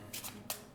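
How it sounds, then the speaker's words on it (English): Overhand shuffle of a deck of cards, a few soft, close flicks and slides of card stock in quick succession, quiet and without speech. "We have another overhand shuffle here once."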